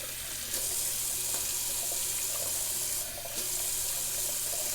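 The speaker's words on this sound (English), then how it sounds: "Let me just rinse this off." Tap water runs steadily into a sink while a shaving brush is rinsed under the stream, a continuous close hiss with slight splashy changes and no talking.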